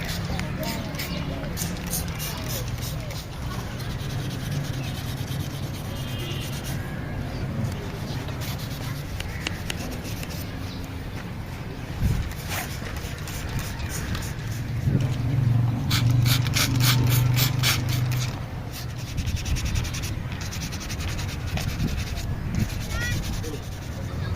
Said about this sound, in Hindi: हल्की फुल्की हम इसकी जो है वेट सैंडिंग कर देंगे